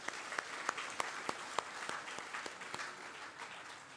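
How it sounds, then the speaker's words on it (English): Audience at a school's 25th anniversary celebration gives a round of applause, a faint, fairly distant clatter of hands with a few sharp, close claps standing out early before it tapers. "Let's all give him also a big round of applause."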